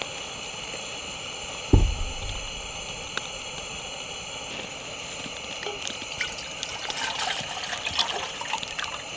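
Water pours into a pot for boiling at a winter camp in Finland. A sharp clank is followed by a faint, steady trickle and splash under a constant hiss from a hot burner. No one speaks.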